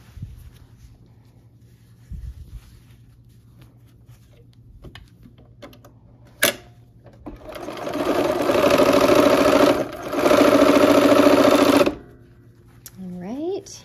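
A sewing machine stitches flannel quilt pieces for a dino star baby quilt, starting after some quiet handling and running steadily for about four seconds with a short pause in the middle.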